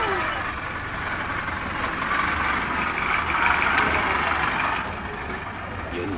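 A Foton Thunder with a 2.8 Cummins diesel engine, just repaired with a replaced injector oil seal, idles with a steady, close rumble. Faint voices can be heard in the background.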